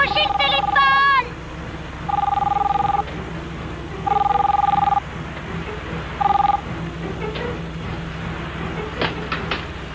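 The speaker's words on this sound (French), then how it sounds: "Téléphone! Décrochez le téléphone!" A telephone rings in three separate electronic bursts with pauses between them, heard over a low background hum, with brief voices at the start.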